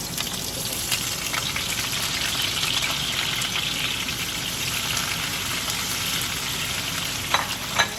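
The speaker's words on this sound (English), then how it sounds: "the mustard seeds are popping" Mustard seeds crackle in hot oil in a pan, a continuous sizzling hiss dotted with faint pops and a couple of sharper crackles near the end, no voices.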